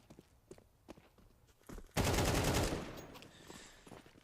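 Gunfire in a Counter-Strike 2 esports match, with an MP7 and pistols: scattered single shots, then a loud dense burst of rapid fire that fades into faint footsteps and distant shots.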